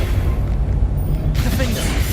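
A deep, heavy Confringo blasting-spell explosion booms in the Hogwarts Legacy video game, filling a short, loud burst of combat noise while a voice is heard over it.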